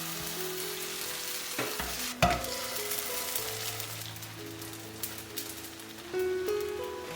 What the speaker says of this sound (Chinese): 煎到底部定型了，给它翻个面